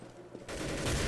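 Shotgun blast in Counter-Strike: Global Offensive, a single loud burst that hits after a short quiet stretch and rings out with broad noisy energy to the end.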